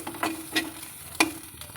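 Egg with turmeric powder being stirred in a frying pan, giving a few soft scraping strokes over a faint, steady sizzle, close and fairly quiet, with no talking.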